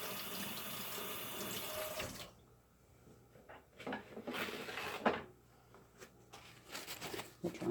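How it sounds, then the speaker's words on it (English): Tap water runs into a kitchen sink while earrings are rinsed, a rushing stream for about two seconds that stops, followed by quiet splashes, drips and small clinks, all close and fairly soft. "So I'm just gonna give these a quick rinse."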